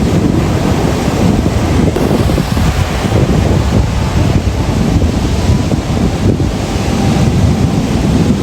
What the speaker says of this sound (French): Il y a des vagues, hein.